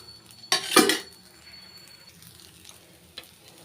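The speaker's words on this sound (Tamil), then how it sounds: "லைட்டாக எண்ணெய் விட்டுக்கிறேங்க" A red rice adai dosa hits oil on a hot pan with a short, loud burst of sizzling and a metallic clink. It then settles into a faint, steady frying hiss with one more light tap.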